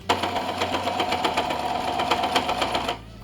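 Sewing machine stitching through a thick moving blanket, a steady fast mechanical chatter running for about three seconds at close range, then stopping abruptly.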